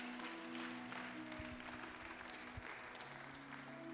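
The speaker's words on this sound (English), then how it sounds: "give them a hand clap of praise" Congregation clapping in praise during a church service, a steady wash of hands over faint background tones and low thumps, moderately distant.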